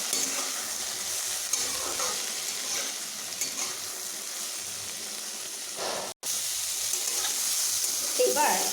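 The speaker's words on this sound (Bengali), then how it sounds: "এবার আমি ঢাকা খুলে এইভাবে একটু ভেজে নিচ্ছি" Yardlong beans sizzle steadily in hot oil in an uncovered pan, with stirring scrapes and a continuous hiss that briefly cuts out once.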